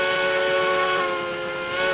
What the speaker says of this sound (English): And it's got a great whistle.